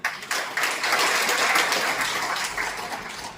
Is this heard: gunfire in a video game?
no